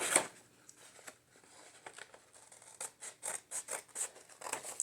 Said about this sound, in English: let me cut this fold off of here so I can have these two pages separate